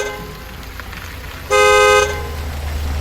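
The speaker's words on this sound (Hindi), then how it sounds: "बैक टू बैक हॉर्न बजाने लगता है" A car horn sounds once in a short, loud, steady blast as a sound effect in a horror story, close up over a faint background of road or rain noise, with no voices.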